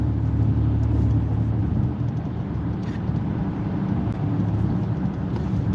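Steady low engine and road rumble inside a car rolling smoothly down a hill slope, continuous and fairly close, with a faint whir and no voices.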